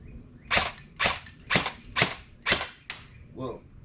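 An LCT LC-3 AR-style airsoft electric gun fires with a double feed, giving six sharp, evenly spaced snapping shots about half a second apart, then a weaker, muffled final pop, close and clear with no talk.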